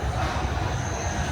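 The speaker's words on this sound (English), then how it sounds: "you have the Wildlife Express. This will take you on a train to the conservation station" The Wildlife Express train at Animal Kingdom gives a low, steady rumble heard from inside a car, a brief moderate drone with a faint whine above it.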